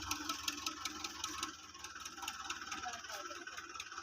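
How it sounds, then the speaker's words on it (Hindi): A tractor engine rumbles steadily with a rattling, mid-pitched drone and hardly changes in level, heard at moderate distance out in a farm setting where a loaded trolley is stuck. "तीसरा ट्रैक्टर भी आ गया है।"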